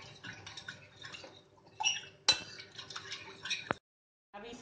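A spoon clinks and scrapes against a bowl while cornflour and water are stirred into a thin batter, with irregular tapping, light liquid swishing and a sharp clink midway, then a brief pause before the stirring resumes.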